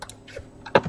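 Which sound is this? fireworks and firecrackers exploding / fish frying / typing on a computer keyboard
typing on a computer keyboard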